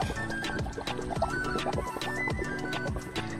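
Water from a motor pump pours into an onion field, making a close, continuous gurgling flow with repeated splashes and bubbling drips, with no voices.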